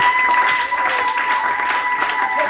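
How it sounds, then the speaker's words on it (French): A church congregation applauding and cheering together in praise, a dense, steady wash of clapping and voices close by and loud throughout. "Acclamons le Seigneur."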